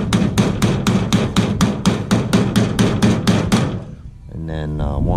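Rapid, even hammer blows ring out as a car door's bottom skin is worked into place during a door bottom and lower skin replacement, about a dozen loud close strikes in steady rhythm, then a brief pause before a short tonal squeak at the end.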